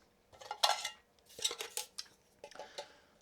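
Metal parts of a camping stove are fitted and clicked together, several bright metallic clinks and scrapes in three short clusters, close and clear.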